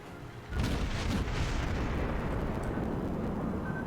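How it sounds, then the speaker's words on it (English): Heavy naval gunfire of armour-piercing shells in a World of Warships-style naval battle game: a loud booming salvo opens, then a sustained roaring rumble lingers with no talk. "Shots out. AP this time. Boom."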